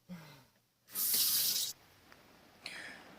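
Water runs from a tap into a bucket at an RV campsite in Pocahontas State Park, a brief, steady rushing burst of under a second, with quieter handling noises before and after.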